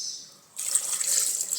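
Water pouring from a tap or vessel into a pressure cooker holding washed green vegetables, a soft hiss that suddenly swells into a steady, close splashing stream.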